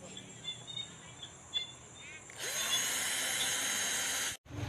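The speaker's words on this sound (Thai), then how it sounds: "มาเจาะเลยนะครับ" A power drill boring a hole for a pipe in a garden pond build, starting after a quiet stretch of faint chirping and running as a loud, steady high whine for about two seconds before stopping abruptly.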